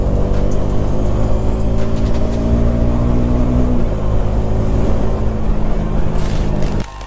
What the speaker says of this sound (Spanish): escuchar el sonido de esta moto